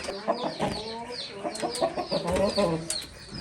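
Chickens and a rooster cluck in a coop close by, dense overlapping calls in quick bursts, with a voice briefly audible among them.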